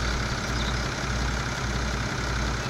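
A tractor's engine left idling on a farm while plowing, a steady, dense rumble with no change in pitch, close and continuous.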